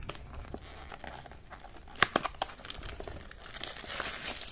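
Plastic packaging on a hot and cold gel pack crinkles and tears as it is unboxed, with a run of close rustling, a few sharper crackles near the middle and steady handling noise throughout.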